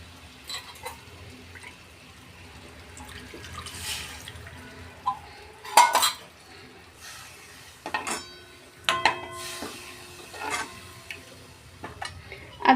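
Yogurt and besan batter for kadhi is poured into a pot with a little water and stirred, giving faint, scattered splashes, drips and soft scraping clinks in a quiet kitchen.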